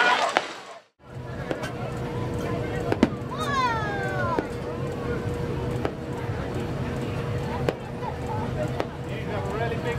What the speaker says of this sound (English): Celebrate fireworks.